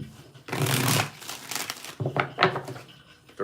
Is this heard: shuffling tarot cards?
yes